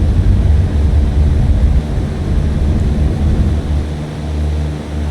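A propeller airplane takes off in Microsoft Flight Simulator 2024, a loud, steady engine drone with a low rumble that dips slightly and swells again, heard without talk.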